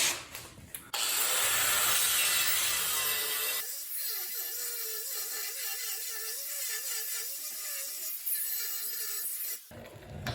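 Half-inch steel angle being cut off a cultipacker in a workshop: a loud, steady rushing cutting noise, then a thinner wavering whine that holds for several seconds before cutting off abruptly.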